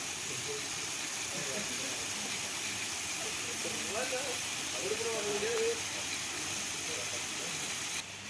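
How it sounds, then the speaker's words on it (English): An automatic farm sprinkler sprays water with a steady, continuous hiss that holds level throughout, while faint voices murmur in the background. "this is the long version of the sprinkler that Fadlan sold"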